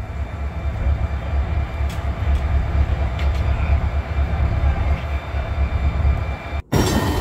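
Diesel locomotive 6847 throttles up at the Illinois Railway Museum during a diesel days event, a loud close engine roar that holds steady and then cuts out abruptly near the end.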